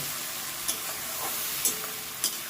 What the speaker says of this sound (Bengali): পেস্টটা দিয়ে ভালো করে কষিয়ে নেব